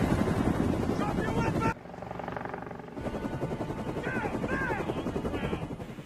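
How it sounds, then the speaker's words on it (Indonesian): Two helicopters emerge from behind a mountain in a film scene, their loud rotor thudding and engine whine heavy throughout, cut off briefly by a quieter stretch before resuming with dramatic music. "Tak lama kemudian muncullah dua helikopter dari balik gunung"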